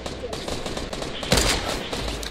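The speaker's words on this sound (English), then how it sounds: "Oh, if he peeks again, I'll snipe him." Gunfire in the Fortnite video game, a burst of sharp shots around the middle of the clip over a steady bed of game noise, with no talk.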